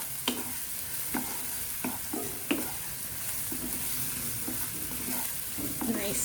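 Ginger and garlic fry in a pan, sizzling softly and steadily while a utensil stirs them, with several sharp scraping knocks spaced through the sizzle.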